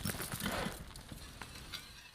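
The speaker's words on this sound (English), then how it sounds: "Horses are getting restless." Restless horses in a fantasy TV drama scene, with hoof clip-clop and shuffling under a dense wash of ambient score and movement, moderately loud throughout.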